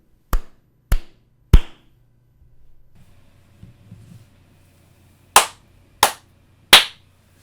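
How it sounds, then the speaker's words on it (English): One person claps hands sharply like a drummer counting in on stage: three crisp, evenly spaced claps, a pause with faint background murmur, then three more close and loud. "I love your drummer clap, like on stage"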